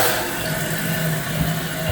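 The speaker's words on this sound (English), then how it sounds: "I'm going to turn the water back on and see if we get a better" A toilet tank refilling after its water supply is turned back on, a steady, loud rushing and hissing of water running continuously nearby, with no speech.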